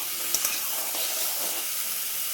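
Potatoes and capsicum fry in a pan with a steady bright sizzling hiss, a couple of small pops near the start, then even crackling throughout with no voices.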